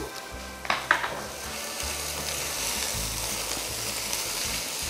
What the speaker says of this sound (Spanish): Así que vamos a sofreír aquí un buen rato.